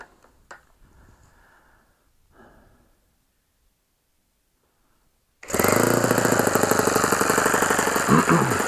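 Quiet shuffling and a few faint knocks, then a small engine fires abruptly halfway through and settles into a loud, steady, rapid idle that runs on to the end.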